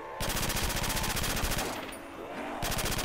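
A P90 fires in rapid automatic bursts in Call of Duty World at War custom zombies: a fast, even rattle of shots that stops briefly midway, then resumes near the end, loud and close.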